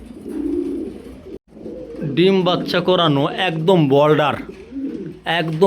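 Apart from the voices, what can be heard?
pigeons cooing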